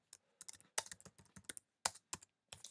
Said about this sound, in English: you'll type here the communication to make a note to yourself for next time